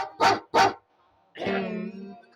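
Dogs barking in a village: two sharp, close barks in quick succession, a brief pause, then a longer drawn-out whining howl, loud and alone.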